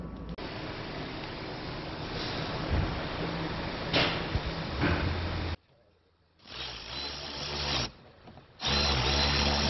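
A power drill spins out screws from the front bumper of a 2021 Honda Accord in several close, loud whirring bursts, separated by short pauses and a longer silent gap.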